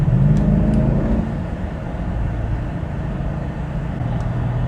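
A 2020 Mercedes-AMG GLS 580 V8 accelerating in sport mode, with a steady low engine drone heard from inside the cabin and a brief rising tone at the start.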